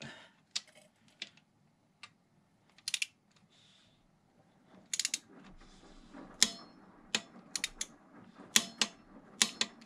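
A wrench tightens the cylinder head bolts on a BMW K100 motorcycle engine to 42, giving close, sharp ratchet clicks in short irregular bursts with quiet gaps between them and no talking.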